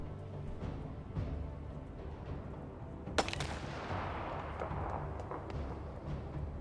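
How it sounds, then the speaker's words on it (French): Distant gunfire in the war survival game This War of Mine, muffled shots and a sharp crack rising over a steady rumbling background, moderately quiet with no talking. "On voit que ça nous tire dessus."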